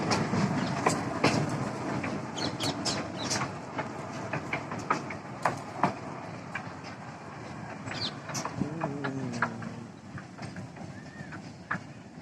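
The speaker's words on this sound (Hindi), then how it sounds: "बच्चों की ट्रेन है, बच्चे बैठे हुए हैं इनमें, बड़े बच्चे सब, छोटी ट्रेन" A small children's ride train rolls by at the National Rail Museum, its wheels clicking in irregular, fairly faint clacks over a continuous rumbling background, with a brief squeal near the end.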